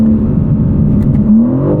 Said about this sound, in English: This has to be one of the best sounding exhausts from this new S58.